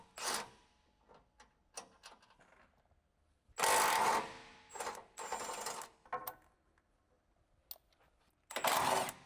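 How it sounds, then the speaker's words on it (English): An electric impact wrench with a 16mm deep socket and extension bar loosens the upper shock mounting bolt on a Jeep Wrangler JK. It gives several loud, close hammering bursts separated by quiet pauses, with no talk. "Use a 16mm deep socket with an extension bar and electric impact wrench. Remove the upper shock mounting bolt."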